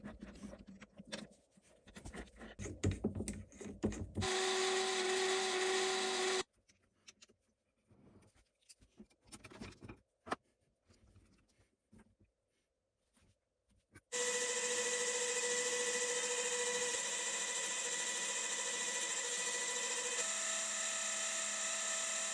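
Power tool stripping varnish from a Record No 7 hand plane, in loud bursts of high-pitched grinding whine that start, cut out into a quiet gap with small clatters, then resume for a long steady stretch.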